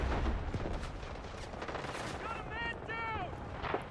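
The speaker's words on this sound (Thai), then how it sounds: "ปืนกลครับ" Bursts of rapid machine gun fire crackle and boom in a Delta Force battlefield, with a voice talking over the loud, dense shooting.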